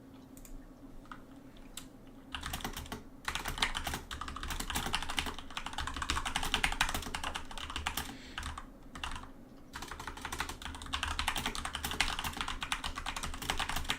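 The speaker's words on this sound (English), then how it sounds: "I'm just typing a response" Steady, rapid keystrokes on a computer keyboard at close range, with short pauses between bursts of typing, set against a low background hum while playing City of Heroes.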